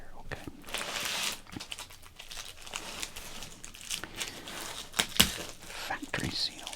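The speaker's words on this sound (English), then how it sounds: "let us first open up this box of cards here" Factory-sealed box of baseball cards being opened by hand, with close crinkling and tearing of wrapping and a few sharper crackles and rips, steady and fairly quiet throughout.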